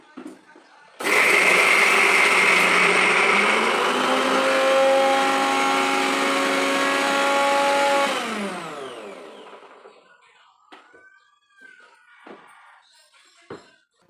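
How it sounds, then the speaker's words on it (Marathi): An electric mixer grinder whirs loudly as it grinds coconut chutney, a steady harmonic motor whine that holds for about seven seconds, then winds down as the power cuts out, leaving quiet clatter and faint household sounds. "खोबऱ्याच्या चटणीचं वाटण वाटत होते तोपर्यंत लाईटच गेली"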